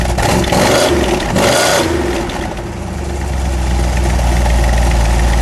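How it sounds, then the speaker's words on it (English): A 1970 Dodge Challenger with a 340 cubic inch V8, loud and close, idling with a rumble and then blipped into a couple of revs that rise and fall back to idle. "All right, give it a rev."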